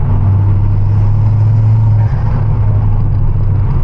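Ford Focus ST/XR5 MK2 turbo car cruising along a forest road, a steady, loud low engine drone and road rumble filling the cabin throughout, with a brief dip in tone midway and no talking.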